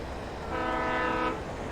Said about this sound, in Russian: О, поезд, забирай меня.